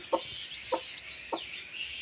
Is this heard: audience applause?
no